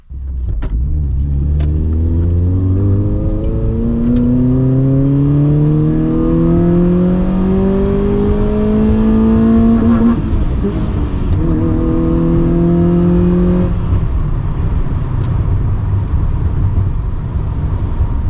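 Honda Fit with a freshly serviced clutch pulling away and accelerating through the gears, loud engine tones climbing in pitch with each gear, a shift near the middle, then settling into a steady cruising hum.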